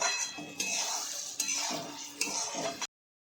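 Soya chunks vegetable pulao stirred in a pot with a metal spoon, scraping and clinking in three or four strokes with a faint sizzle beneath, then silence.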